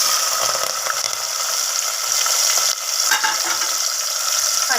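Mustard seeds, cumin, shahjeera and dried chillies frying in hot oil give a loud, steady, hissing sizzle close by, with faint stirring scrapes now and then.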